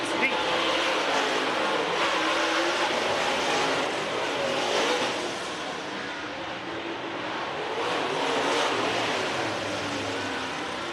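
Late model race cars roar around a dirt track during a heat race, engine noise swelling and fading as the pack passes, with a loudspeaker voice talking over it.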